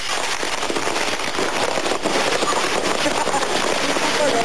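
Dense, continuous crackling and popping bursts fill the scene as firecrackers explode in burning fireworks stores, like a rapid barrage going off nearby without pause.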